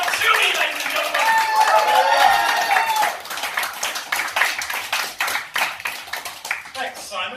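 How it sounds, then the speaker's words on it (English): A comedy club audience at a Toast bar claps and whoops for a comedian, loud cheering and shouts at first, then thinning into distinct rhythmic hand claps near the listener as the noise fades. "let's get some applause and whooping going"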